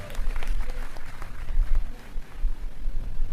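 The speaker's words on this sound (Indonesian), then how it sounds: "Kita kasih semangat ya bagian multimedianya. Tepuk tangan dong" Seminar audience clapping in uneven bursts, a moderate crowd patter rising and falling while a voice talks over it.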